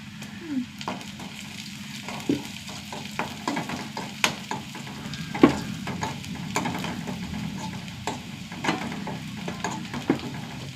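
Onion, curry leaves and crushed chili fry in a pan with a steady sizzle, and repeated spatula scrapes and taps sound through it at an irregular rhythm, close and moderately loud.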